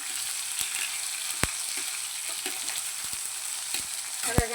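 Spice masala with tomatoes fries in a pan, a dense steady sizzle up close, broken by a few sharp clicks and scrapes as it is stirred, no speech.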